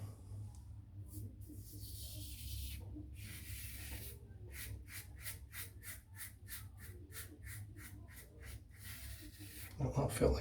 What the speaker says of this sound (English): if you overload the brush, you'll get a stunningly good lather